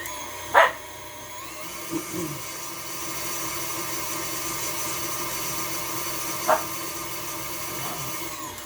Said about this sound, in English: you can probably hear the dogs